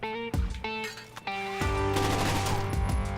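Rapid bursts of gunfire ring out in the Terrorist Hunt shooter game, a short fusillade of loud, sharp shots in quick succession, with a pause between bursts.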